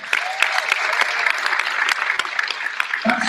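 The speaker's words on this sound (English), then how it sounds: "let's just have a little round of applause for our technicians" Audience applause rings out in a talent-show hall as the technicians and crew are thanked, steady dense clapping filling the room for a few seconds, loud and close, with scattered sharper claps and no talk over it.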